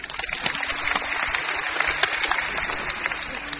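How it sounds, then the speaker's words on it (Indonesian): A church congregation claps together during a sermon: a steady, dense wash of applause held at an even level throughout, with no voices above it. "Tepuk tangan boleh."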